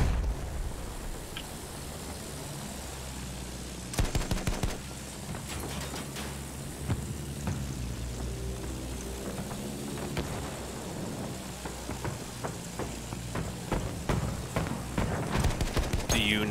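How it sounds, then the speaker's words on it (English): Gunfire in the video game Battlefield 1 at Heligoland Bight, scattered sharp shots and short bursts aimed at the player over a low rumbling engine drone, with some talk. "they're shooting me from the ground"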